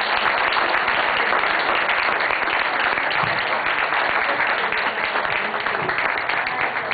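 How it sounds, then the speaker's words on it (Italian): An audience applauds Rita at a film-club lesson, with sustained, even clapping from a room of people, loud and continuous. "con un applauso a Rita, auguriamo un futuro di donna di cinema"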